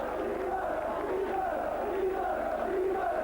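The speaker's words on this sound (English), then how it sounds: "Just getting the applause from the popular side as he salutes them as he goes back." Rugby league crowd on the popular side of the ground at St Helens v Halifax, applauding a try by a Saints player, a steady broad roar of clapping and cheering that fills the whole stretch evenly.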